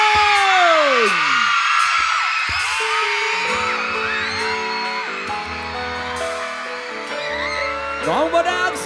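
A crowd at a live back-to-school concert screams, whoops and yells loudly, with sweeping shouts over band music and scattered bangs.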